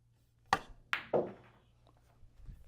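Cue ball striking balls during a pool rail shot on a quiet table: three sharp, close clacks in quick succession, followed by faint rolling and a soft knock.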